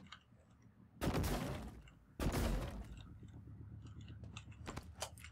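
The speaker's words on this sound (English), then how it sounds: "I'm gonna show you some of the strengths of the glue gun." Two loud, broad bursts from the glue gun in the video game Prey, each about a second long, followed by quieter clicky game sounds and a faint background hum.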